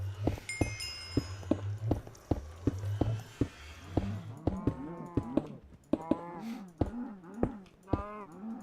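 A cow moos repeatedly in Minecraft, played with the Project Ozone 2 modpack, its low calls coming in a string of short groans under steady, rapid computer keyboard typing.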